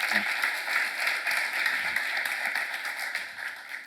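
A church congregation claps along steadily during a sermon, a dense continuous patter of many hands that holds at an even level throughout.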